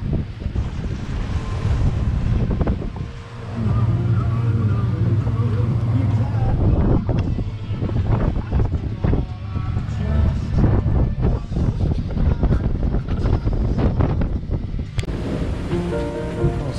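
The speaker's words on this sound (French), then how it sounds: "Ça souffle fort, 25 nœuds, ça gîte beaucoup puisqu'on est au pré" Strong 25-knot wind buffets a heeling sailboat beating upwind off the Mallorca coast between Sóller and Andratx, with loud gusty roar, waves slapping the hull and creaking gear throughout, and occasional voices in the background.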